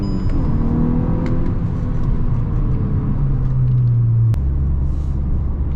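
A Volkswagen Golf 6 R pulls hard in second gear, its engine note droning and climbing in pitch as it accelerates, loud and close from inside the car, then dropping sharply at a shift before settling into a lower rumble.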